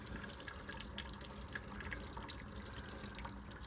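Engine coolant leaking from a vehicle parked on dirt just off concrete makes a steady, close trickling and splashing like running water, continuous and moderately loud with no talk.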